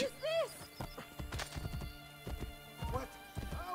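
Horse hooves clop in an Assassin's Creed Brotherhood game scene, with short neighs and whinnies rising at the start and again near the end, plus scattered thumps, all at modest volume.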